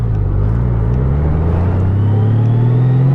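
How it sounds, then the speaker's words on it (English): A 2018 Honda Goldwing Tour motorcycle pulls away from a stop and rides on, its engine a steady, loud, close low rumble with a rising drone throughout. "you can see here we're riding, I'm on a 2018 Honda Goldwing Tour"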